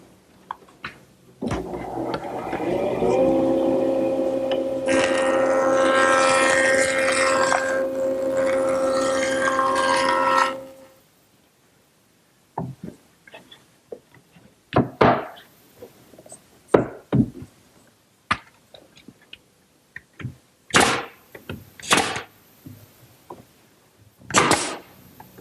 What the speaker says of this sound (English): I'll do that at the joiner.